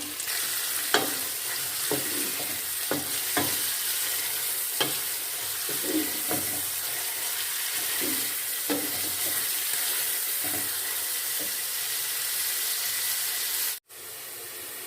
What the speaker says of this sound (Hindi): कुकिंग ऑयल गर्म हो गया, इसमें हम प्याज डालेंगे और इसको हम फ्राई कर लेंगे प्याज को।